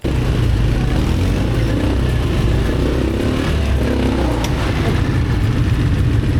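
An ATV engine drones loud and close while riding in Phuket, a steady rumbling roar with no pauses and no talking.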